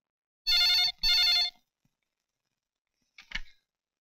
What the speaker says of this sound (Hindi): अर्जुन सर, अर्जुन का फोन।